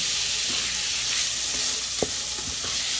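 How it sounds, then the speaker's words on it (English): Onions and garlic sauté in a pan for jambalaya, giving a steady broadband sizzle with occasional stirring scrapes and one sharper clink, close up and without talk. "And then I'm just going to saute them around for a little bit."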